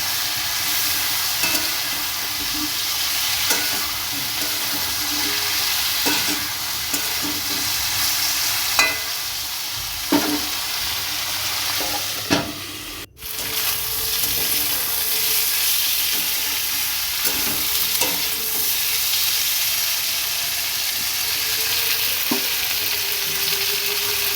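Prawns frying in a pan with a continuous close hiss and sizzle, punctuated by periodic stirring scrapes and knocks, with one sharp click midway and no voices.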